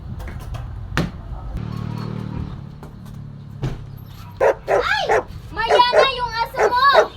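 A dog barks and yips in a few sharp bursts close by, with people talking around it.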